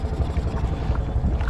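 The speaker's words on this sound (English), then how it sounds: "Man, it's idling pretty good." Honda Rubicon 520 ATV engine idling while submerged in water, a steady low rumble with bubbling churn, continuous and fairly loud throughout.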